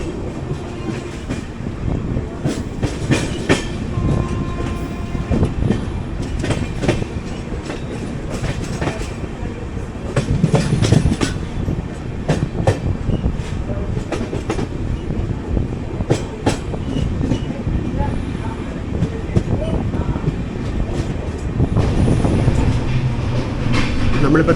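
The Pragati Express runs between Pune and Mumbai, heard from inside its air-conditioned Vistadome tourist coach. A loud, continuous rumble carries a clickety-clack wheel rhythm throughout, with occasional sharper rail knocks.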